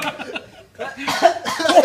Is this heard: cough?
yes